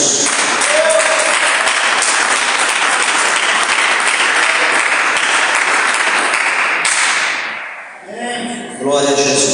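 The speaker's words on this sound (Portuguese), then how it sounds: "dê uma salva de palmas bem alegre para Jesus" A church congregation applauds loudly and steadily for several seconds, the clapping thinning out near the end before a brief burst resumes.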